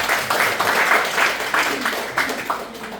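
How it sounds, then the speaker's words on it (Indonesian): A church congregation at an evening prayer meeting bursts into applause, a dense, loud wash of clapping that stays fairly even and fades slightly toward the end, with some voices mixed in. "Berikan tepuk tangan kita untuk Tuhan."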